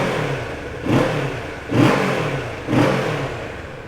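Kawasaki Ninja 650 KRT sports bike with an Akrapovic exhaust, baffle fitted, idling steadily then blipped three times at regular intervals, each short rev swelling and falling back, close and loud.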